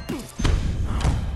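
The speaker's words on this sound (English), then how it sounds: "Scratch is firing off a solid blow." Two heavy thudding punches land in the boxing video game Creed: Rise to Glory, one near 0.4 seconds and another around 1.0 second. Each is a dull, close, low-pitched impact over a constant background rumble.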